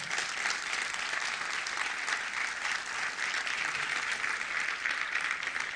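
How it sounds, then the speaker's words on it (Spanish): Steady, dense applause from a church congregation at an Argentine evangelical service, many hands clapping together at an even, sustained level with no speech over it. "Denle un aplauso a Dios por eso."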